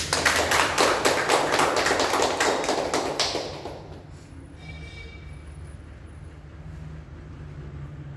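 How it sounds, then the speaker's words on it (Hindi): An audience at a spiritual gathering claps loudly and steadily in a dense burst for about three seconds, then the applause dies away into quiet room tone. "सतगुरु के लिए बजाओ ताली जोर से"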